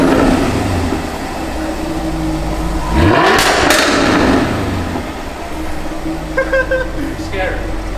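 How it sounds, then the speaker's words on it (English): A car engine revs hard once, rising sharply in pitch and roaring loud for about a second before settling back to a steady idle rumble, with people talking over it. "Let's give it one more rev."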